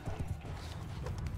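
A horse in battle in a Game of Thrones video game, heard as a brief burst of muffled hoof clatter and low thuds against dense background noise, with no talking.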